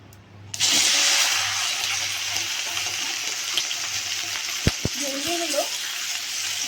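Okra drops into hot oil in a wok and bursts into a loud, sudden, steady sizzle that carries on evenly, with a couple of sharp knocks and a brief voice-like sound underneath.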